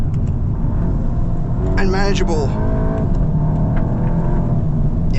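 Volkswagen Golf GTI driving over a bumpy road section, a steady low cabin rumble and road roar throughout, with a person talking briefly over it mid-way.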